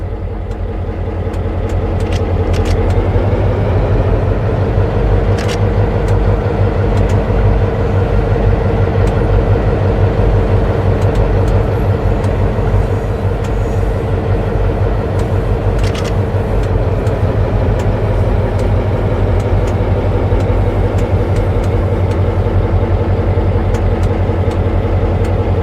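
A diesel train locomotive in Train Sim World pulls away, a steady loud low engine drone with rising mid-range tone and faint rattles, continuous throughout with no talk.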